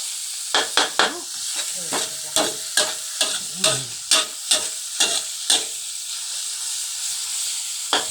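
Stir-frying fried rice in a wok: a steady sizzle with repeated scraping strokes and pops at a quick, uneven rhythm, close and fairly loud, no talking.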